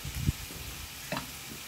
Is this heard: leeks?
yes